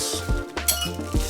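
Metal bolts and Allen wrenches from a utility cart hardware pack clink and rattle together in a short, close, busy burst of small metallic taps.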